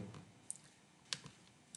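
Quiet single clicks of a computer mouse sound at the desk, three sharp taps spaced irregularly against near silence.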